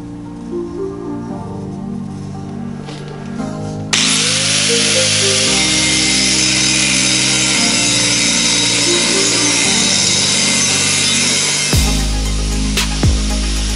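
A power saw cuts through metal tube for a flatbed build, a loud, steady, close-up grinding whine that holds for several seconds after a quieter lead-in, then stops abruptly with a few clanks.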